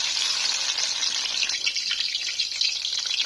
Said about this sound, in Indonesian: Ini aku goreng tempe dulu.